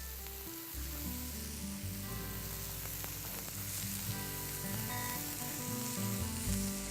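Chicken pieces searing in a hot pan for coriander chicken, a steady close sizzle that holds at an even level without pause and with no voices.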